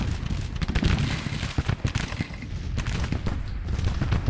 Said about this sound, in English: It is artillery though.